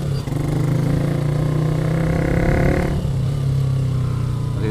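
Manual motorcycle engine revving in neutral, a steady loud idle rumble that swells briefly and then settles back, close to the microphone with no talking.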